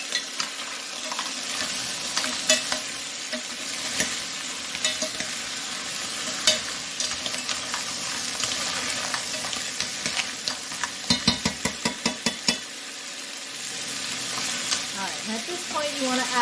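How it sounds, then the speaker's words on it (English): Bivalves being tossed with lemon and salt in a pan, giving a continuous close sizzle with busy stirring scrapes and a flurry of clattering shell knocks in the middle. "you want to toss to coat everything"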